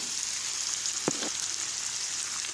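Onions frying in a pan on the way to a mushroom escalope dish, a steady soft sizzle throughout with one brief clatter near the middle and no talking.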